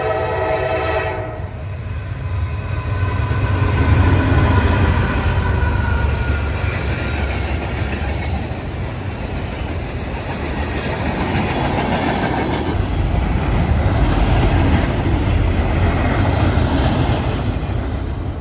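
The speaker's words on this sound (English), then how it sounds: "this is Norfolk Southern 165 coming up from Linwood Yard, hauling butt through Thomasville" A Norfolk Southern freight train passes close by in Thomasville, North Carolina, with a loud horn blast at the start, then a long heavy rumble and rhythmic clatter of wagons rolling past.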